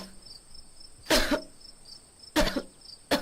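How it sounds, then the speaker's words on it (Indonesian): Three harsh, rough coughs spaced a second or so apart, close by, over a steady background of chirping crickets at night, from an animated Indonesian horror film. "Suara batuk Suniti terdengar semakin kasar."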